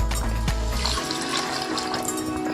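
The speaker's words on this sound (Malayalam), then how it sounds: "രണ്ട് കപ്പ് വെള്ളം ഒഴിച്ച്" Two cups of water poured into a pressure cooker holding spinach and turmeric for a palak cheera curry, a steady close splashing pour filling the pot, loud throughout with no talking.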